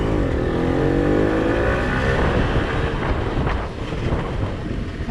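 Dense car traffic crawls through a jam in Sawah Besar, Jakarta, a steady loud roadway rumble with engines idling and revving up close and wind buffeting the microphone, no voices.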